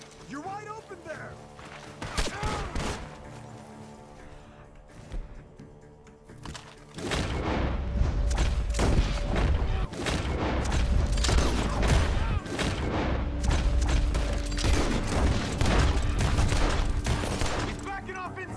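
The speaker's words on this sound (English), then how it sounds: "Gunshots are coming from that barn!" Gunfire in a video game battle coming from a barn: dense bursts of rapid shots and heavy booms that start sparse, then build into near-continuous firing, with shouting voices over the top.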